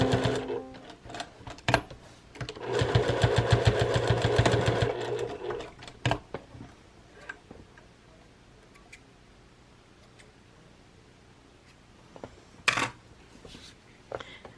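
A sewing machine stitching patchwork bag straps runs in a steady buzzing burst for a few seconds, then stops and gives way to scattered clicks and handling taps as the fabric is turned and repositioned.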